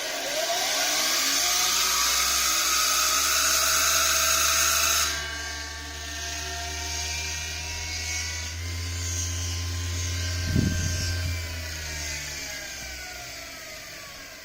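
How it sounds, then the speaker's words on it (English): A washing machine motor spins at very high speed on a roughly 1 kW drive, giving a steady loud whine and whir that shifts pitch partway through, with a brief bump near the end. "So it is actually running the washing machine motor pretty good."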